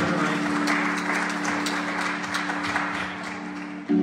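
An audience at a Hindu temple in Pickering applauds steadily and at moderate volume throughout, with a sharp burst near the end.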